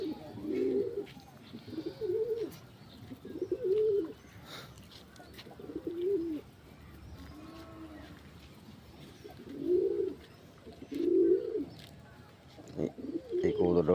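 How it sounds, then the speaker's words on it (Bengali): Pigeons coo at a small rooftop pigeon farm, soft low rolling coos repeating in short bursts every second or two, close by, with quieter stretches of background noise between. "এই কবুতরটা অবশ্য আমাদের না"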